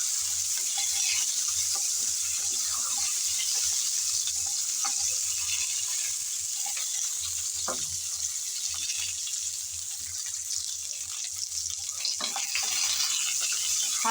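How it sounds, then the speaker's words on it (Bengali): Raw mango pieces frying lightly in hot oil with panch phoron, giving a steady soft sizzle with faint stirring clinks throughout, no talking. "আম দেওয়ার পর নেড়ে চেড়ে তেলের মধ্যে ভেজে নেব হালকা করে।"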